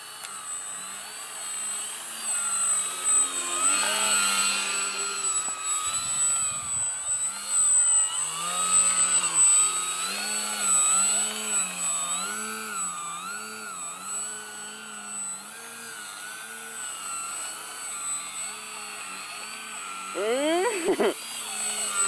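The electric motor of a plate-shaped RC Nutball plane climbing vertically, a loud whine that keeps sweeping up and down in pitch, with a few sharp throttle bursts near the end.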